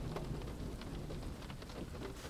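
A storm at sea with heavy rain and thunder: dense rain hissing and pattering over a low rolling rumble, loud and steady throughout, with no voices.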